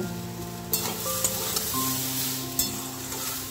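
Lentils fry in a pan while a utensil stirs them, with a steady soft sizzle under a few sharp scraping taps, close and moderate in level, no voices, and faint tonal hums in the background.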